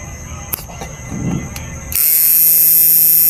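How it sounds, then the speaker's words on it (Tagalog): A blower fan in a 38000W mini amplifier under repair starts up with a sudden, loud, steady high-pitched whine and hum that takes over after quieter mechanical clicks and handling noise. "Ayan yung blower. Galing muna natin yung blower. Masyado maingay, masakit sa tenga."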